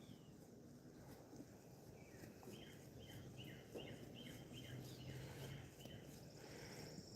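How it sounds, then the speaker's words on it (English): Birds sing out in a yard early in the morning, a faint, repeated run of short chirping phrases drifting in from a distance over a steady background hiss. "Y'all might be able to hear some of those birds out in the yard."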